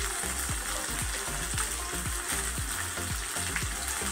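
Chicken liver masala sautés in a pan with red chili powder, a steady sizzle under quick, rhythmic scraping strokes of a spoon stirring the mixture.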